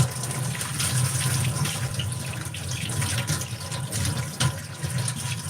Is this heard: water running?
yes